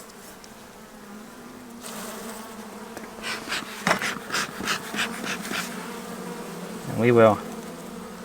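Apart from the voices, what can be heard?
honey bees buzzing around a hive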